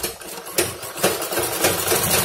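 Sewing machine stitching a seam on a suit, a steady mechanical whir that runs without a break, with a few sharper surges in speed, close and fairly loud, with no talking.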